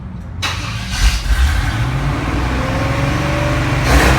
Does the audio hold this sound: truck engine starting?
yes